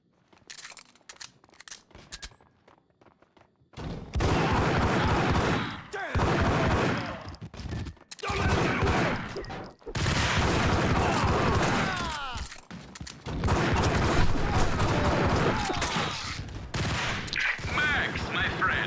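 Rapid bursts of gunfire and fusillades in the video game Suit for Hire, loud and dense, coming in long volleys separated by short gaps and sparse single shots.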